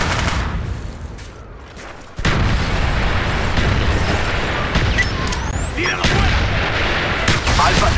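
Artillery strike in Call of Duty Black Ops multiplayer: after a quieter stretch, a sudden heavy barrage erupts and keeps pounding as a sustained roar of booms and bursts, with a radio-style voice speaking over the top.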